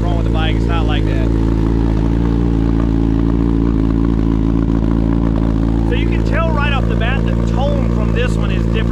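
A 2022 Suzuki Hayabusa with an aftermarket exhaust idles on a cold start with a deep, steady rumble, loud and close, while people talk over it in bursts.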